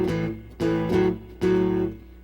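Acoustic guitar picking out one measure of a shuffle tune, three loud plucked strums on low strings in an uneven, swinging rhythm, close and clear with nothing else heard.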